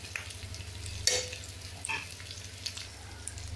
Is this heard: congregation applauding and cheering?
no